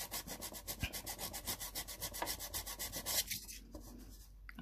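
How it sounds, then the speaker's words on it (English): Fine 320-grit wet and dry sandpaper rubs quickly back and forth on a plastic Ford Focus dashboard storage panel, making a rapid, even rasping rhythm close up with no talk. "what I'm using here is 320 grit, it's just like wet and dry sandpaper."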